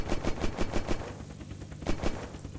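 Rapid bursts of gunfire from the video game Unturned, a sniper firing somewhere nearby, come in two quick volleys of sharp, loud reports separated by a short lull.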